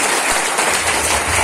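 Dense crowd clapping at a Chhattisgarhi gathering, a steady loud wash of many hands filling the short moment without pause.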